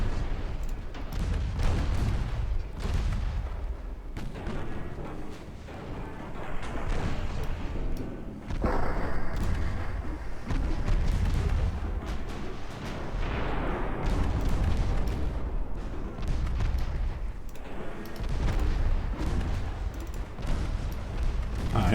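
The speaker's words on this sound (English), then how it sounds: "Torpedo hit." Naval combat in a Napoleonic Austrian campaign strategy game, with repeated deep booms of ship gunfire and a torpedo hit, rumbling heavy thuds recurring every few seconds over a dense battle din, with voices partly mixed in.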